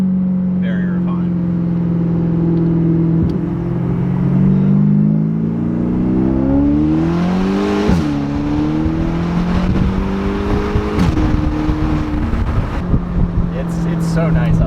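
A Porsche Panamera Turbo with a GT3-style exhaust hums and revs from inside the cabin, its engine note rising and falling through gear changes, steady and droning, with people talking over it.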